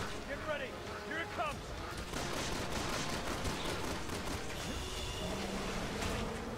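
Rapid gunfire in the Resident Evil 6 game, steady bursts of shots underneath a chaotic mix of game effects, with a voice talking over the top at moderate level.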